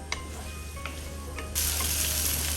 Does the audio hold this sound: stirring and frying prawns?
yes